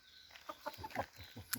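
A rooster gives a few soft, short clucks in an irregular run, faint and close against quiet background noise.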